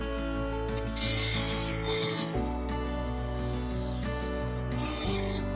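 A full-size carbide woodturning tool shaves an ash segmented bowl on a lathe, making a continuous close rasping and rubbing over the steady motor hum, with no speech.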